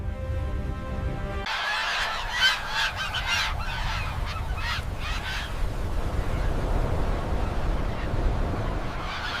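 Flamingos calling at a dangerous lake, a dense flock of honking, goose-like cries rising in overlapping bursts over a steady low rumble of wind and water, no talk.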